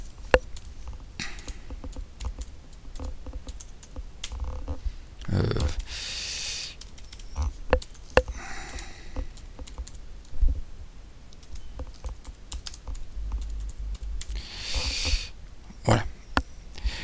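Fast bursts of typing on a computer keyboard while Python code goes into a new module file, close and crisp clicks in uneven runs, with a few breaths and soft murmurs between them.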